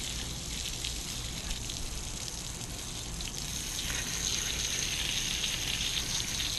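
Tap water runs in a steady, strong gush and splash as a part from a 1975 Lawn-Boy two-cycle engine is rinsed under a faucet, broadband hiss that swells slightly toward the end with no talking.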